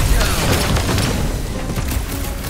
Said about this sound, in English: Way too much shooting.